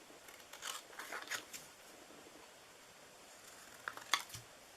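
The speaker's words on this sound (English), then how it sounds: "And we're just going to hand cut those out." Scissors snipping by hand through straight-edged greeting-card pieces, with a cluster of short crisp cuts at the start and a sharper few near the end, close and fairly quiet, with no talking.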